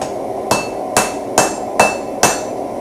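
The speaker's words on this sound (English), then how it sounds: "My plan is to take and kind of hammer that in a bit." A hammer strikes hot metal at a forge five times at an even, unhurried pace, each blow a sharp close ringing clang over a steady background hum.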